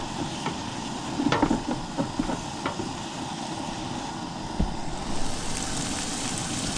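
Shallots, mushrooms and pancetta sizzle in a camping pot outdoors, a steady dense crackle with a few sharper clicks and scrapes of stirring near the start, no talk.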